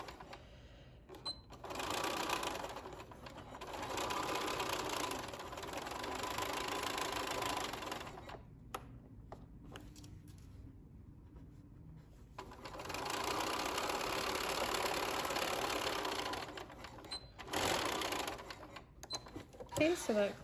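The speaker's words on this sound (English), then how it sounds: "I'm just gonna sew across here to close the linings" A sewing machine stitches across the lining of a handmade zipper pouch in long, steady buzzing runs, stopping and starting several times, up close.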